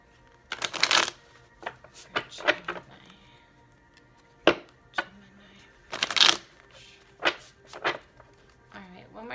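A deck of cards is shuffled up close in several quick riffling bursts separated by brief pauses, with soft taps and handling noises in between; a voice is faintly present.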